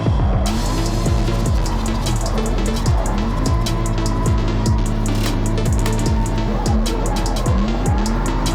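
A race car on a qualifying run around a drying track, engine revving loudly and close with repeated upshifts and tire squeal, continuous and intense throughout.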